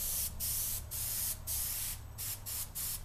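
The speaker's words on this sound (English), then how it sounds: "I'm basically using the airbrush to draw." An airbrush sprays paint in short bursts to shade a small sketch, a close, steady hiss that starts and stops about six times with brief pauses between.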